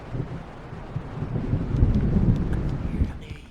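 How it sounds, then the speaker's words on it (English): An approaching thunderstorm in Alan Wake Remastered rumbles low with gusting wind, swelling in the middle and fading, a deep rolling roar under faint ambient sounds. "The storm is almost here."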